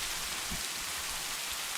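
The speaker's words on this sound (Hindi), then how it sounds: "बारिश बहुत तेज होने वाली है।" Heavy rain pours down in a dense, steady hiss, loud and continuous, with no voices.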